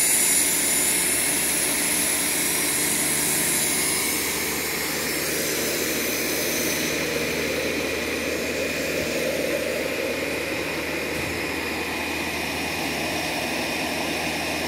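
A Tesla turbine electrical generator running at low RPM gives a loud, steady whine and airy roar with a high tone on top, holding a constant level for the whole stretch with no talking.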